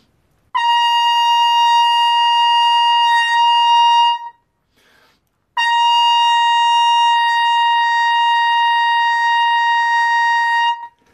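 A brass instrument sounds a high C with focused air, holding two long, steady, bright notes separated by a brief silence, loud and close with nothing else heard.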